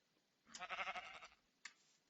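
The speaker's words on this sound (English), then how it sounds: "we simply listen to and listen for the melodic strains of little lambs as well as scrumptious sheep" A single sheep bleats in the video game Minecraft (Hungry World), a brief wavering baa heard close and alone, followed by a short sharp click.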